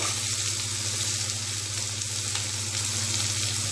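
Tomatoes sauté in a pan for semiya kichadi, giving a steady, close sizzle and crackle of frying that runs unbroken the whole time.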